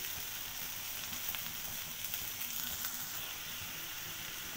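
Rohu fish roe dropped into a hot pan of cooked-down spice masala, a continuous soft sizzle and hiss with light crackles, fairly quiet and close, with no talking.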